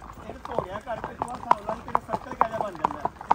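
Marwari horses on a long group ride clip-clop along in a steady, even rhythm of hoof strikes, fairly close and clear, with outdoor ambience under them.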